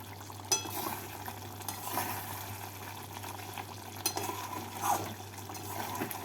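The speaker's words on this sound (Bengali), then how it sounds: "এবার ঢাকা খুলে নাড়াচাড়া করে নেবো" A spoon stirs cauliflower roast in a pan just after the lid comes off, soft scraping and shuffling over a low steady sizzle, with a few louder clinks and scrapes at irregular moments, close and fairly quiet.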